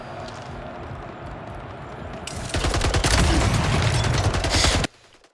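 Rocket launcher blasts and rapid gunfire in the video game Splitgate, a dense loud burst of shots and explosions over a low game hum that cuts off abruptly near the end.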